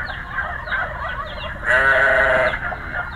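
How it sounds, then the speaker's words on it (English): A sheep gives a single clear bleat in the middle, loud and wavering, set against low farmyard noise with faint distant calls before and after. "A sheep."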